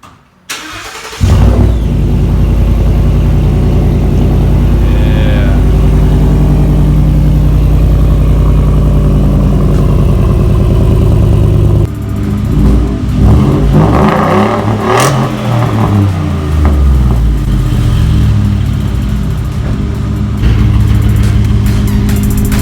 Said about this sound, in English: here goes the first cold start with our muffler delete